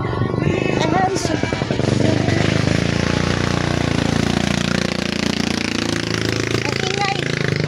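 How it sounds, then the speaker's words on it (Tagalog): A motorcycle engine runs close by on a wet, rainy street, a rough, sputtering mechanical rumble that stays loud and steady throughout, with voices faintly underneath. "Pinapakita ko yung motor."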